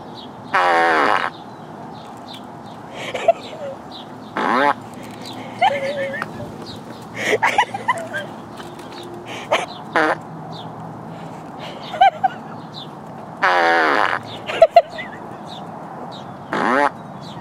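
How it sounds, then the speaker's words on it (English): Loud, blaring fart noises burst out several times between a person's chatter, with bits of movement and excited sounds in between. "what she does when she hears a fart machine."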